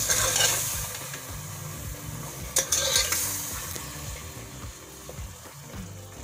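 A spoon works through a spiced raw mango curry with Kashmiri chilli, garam masala and sugar in a pan, giving a steady scraping stir over a soft sizzle, with a couple of sharper clinks near the middle and no talking.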